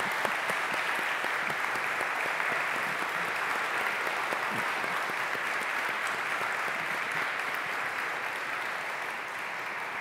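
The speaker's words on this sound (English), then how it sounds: "Let's give her a round of applause." An audience at a conversation event with an author breaks into loud, sustained applause, a dense wash of many clapping hands that continues steadily throughout and tapers slightly toward the end.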